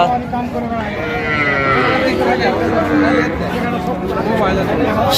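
Young bull calves bawl and bleat over loud, constant talking and crowd chatter at a cattle market, their wavering calls rising repeatedly close by.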